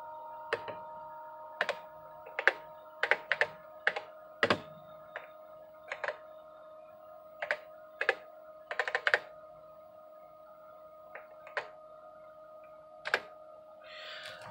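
Keys clack on the keyboard of a vintage Osborne Executive computer, a dozen or so separate sharp strokes in irregular bursts over a steady electronic hum, fairly close and without talk.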